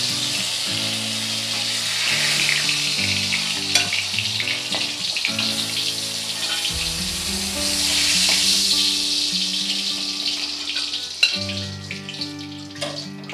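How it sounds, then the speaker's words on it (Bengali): Stuffed pointed gourds (potol) frying in hot oil, a loud, continuous crackling sizzle with occasional clinks and stirring sounds, no voice. "এবার আমি একইভাবেই বাকি পটলগুলোই ভেজে নেব।"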